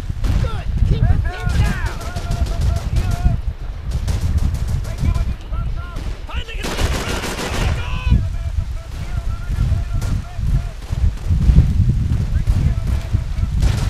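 Rapid bursts of gunfire from the Call of Duty 3 video game, with repeated rattling volleys and a loud dense burst near the middle, heard beneath talk and game sounds throughout.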